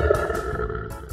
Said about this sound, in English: A lion makes a roar sound.